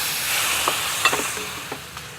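Apple cider vinegar is poured into a hot pan of spices, setting off a steady, close sizzle and hiss with a few small pops and clicks of stirring scattered through it.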